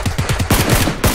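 A loud, close burst of rapid video game gunshots fires in quick succession, a fast automatic rattle lasting about a second.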